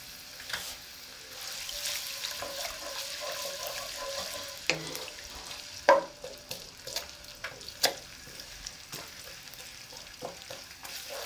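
Onion frying in a large mug's worth of hot oil for a mixed vegetable sabzi, a steady soft sizzle with scattered clinks and stirring knocks throughout.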